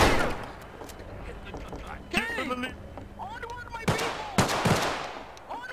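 Sharp gunshots go off in Garry's Mod, scattered in short bursts between excited voices that talk and shout over the shooting.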